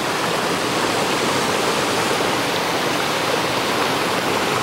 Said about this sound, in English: really nice little waterfall here